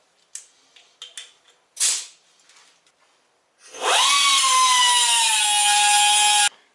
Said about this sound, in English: I'm going to cut diagonally to allow me to get to the top without cutting into this plate